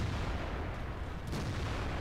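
A T110E3 tank gun firing in the World of Tanks game gives a single booming shot buried in dense, loud, continuous battle noise.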